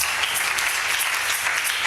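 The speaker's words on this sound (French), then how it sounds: "Acclamons pour le Seigneur" A church congregation applauds the Lord during a French-language worship service, a steady wash of many hands clapping together that holds at an even, fairly loud level for the whole short stretch.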